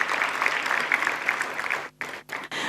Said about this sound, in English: Let us honor their presence with a huge round of applause